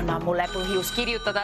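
A telephone rings in a radio studio during a call-in quiz show. It rings under a host's talk and is fairly loud and close.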